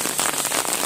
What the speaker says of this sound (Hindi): बारिश की आवाज़ आप सुन सकते